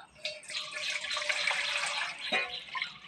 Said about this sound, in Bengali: চুনের মধ্যে একটু জল দিয়ে দেবো।